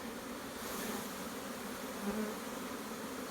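A close, steady drone of honeybees swarms around an open nuc hive, the buzzing constant and unbroken throughout.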